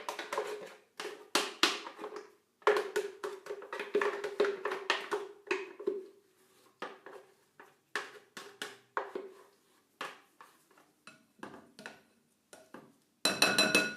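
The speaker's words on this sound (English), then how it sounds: "So now I put the pudding into my bowl, or the base for the pudding." Raw vegan blueberry strawberry pudding base is scraped from a blender into a bowl, making irregular bursts of scraping, tapping and clinking utensil contact, with a sharper clatter near the end; no talking.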